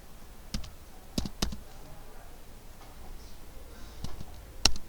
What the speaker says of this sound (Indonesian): Kita ketik dulu ya